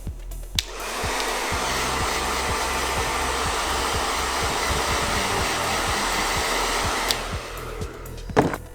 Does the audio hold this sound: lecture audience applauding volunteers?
no